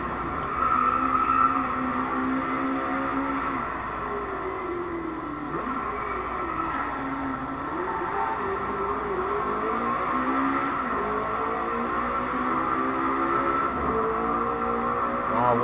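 A McLaren 650S race car engine in Driveclub drones steadily at high revs, its pitch rising and dipping as the car is driven on track, loud and continuous throughout.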